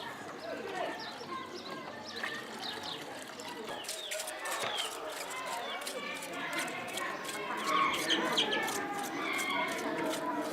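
Chickens cluck and squawk nearby in a busy yard, with scattered bird calls over steady background noise and some talk.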